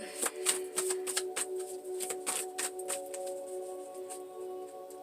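Rapid riffling of cards, a dense flutter of crisp clicks, followed by lighter intermittent taps, with a steady tonal hum underneath.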